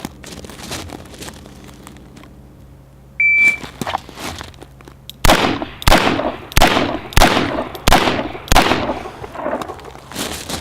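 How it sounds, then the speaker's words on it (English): A 4-inch Smith & Wesson Model 10 Military Police revolver fires .38 Special service ammunition at 10 yards, one-handed: six sharp, loud shots in quick, even succession after a quieter lead-in with a brief beep. "4-inch Smith & Wesson Military Police Hand Ejector, Model 10, old Buckenheimer, Hank Sloan FBI issue holster, 38 special service ammo"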